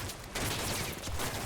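Dense, continuous gunfire in a war video game set in snow, a loud unbroken fusillade of overlapping shots with no talk.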